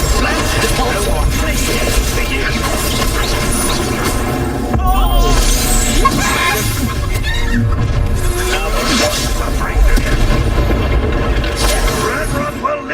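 Spell casting and explosions in the video game Hogwarts Legacy: loud, continuous bursts, crashes and shattering effects layered under a voice shouting spell names throughout.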